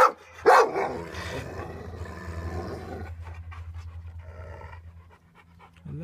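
Heavy, steady panting from large dogs, rapid breaths close by, with a brief loud huff near the start.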